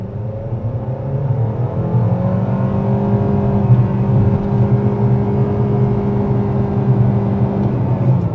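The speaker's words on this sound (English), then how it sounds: "Offline, sport mode, on the gas." A 2025 Nissan Kicks SR accelerating in sport mode, heard from the cabin as a steady, loud engine drone whose pitch climbs smoothly over several seconds, with road rumble and no voices.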